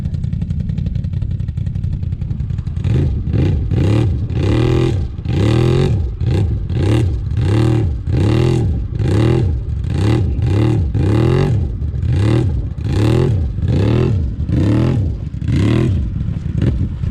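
A Renegade 1100 engine is revved hard with the throttle in a rapid series of loud, rising and falling bursts, about a dozen pulses following a steadier idle at the start.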